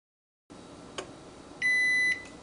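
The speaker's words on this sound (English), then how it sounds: "Sorry for the beeping." A Zojirushi Virtuoso bread machine gives a short electronic beep when finished, then a longer sustained tone, over a faint steady hum.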